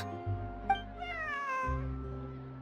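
A cat meows in a video game hangout event, one drawn-out, rising and falling meow heard clearly over steady background music tones.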